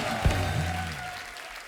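Studio audience applause for guests on The Kapil Sharma Show, a broad wash of clapping that carries on and slowly fades, with a brief voice and some tonal sound near the start.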